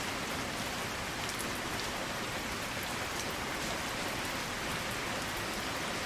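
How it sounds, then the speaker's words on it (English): Steady rain falling at a junkyard, a dense, even hiss of drops on surfaces that stays constant throughout without any voices. "it's raining"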